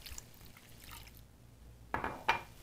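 A brief, faint splash and trickle of water poured into a pan of diced tomatoes and sour cream, following a quiet stretch.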